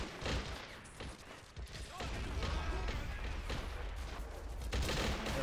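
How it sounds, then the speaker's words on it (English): Dense rattling machine gun fire in the battle game Men of War: Assault Squad 2, Pacific campaign invasion of Borneo, with bursts and crashes overlapping in a busy, continuous battle din. "Not close enough for the machine gun to start shooting."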